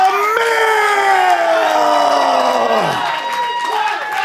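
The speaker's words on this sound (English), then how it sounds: "you can hear this crowd here in the NWA arena chanting one time, one time" A wrestling crowd in the NWA arena chants loudly in unison during a women's title match, the sustained massed voices sliding and wavering together and filling the hall.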